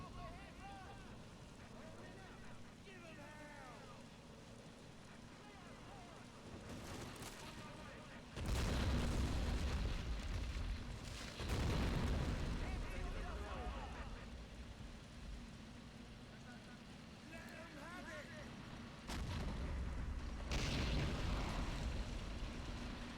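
Several grenade explosions in Men of War Assault Squad 2 thump out as distinct heavy bursts spaced across a rumbling battlefield bed, fairly distant and muffled, with someone talking over the action.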